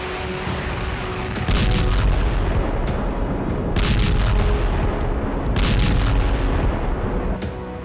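Heavy booms and blasts from an oil depot roll out one after another, loud and rumbling, with crackling bursts between them and no voices.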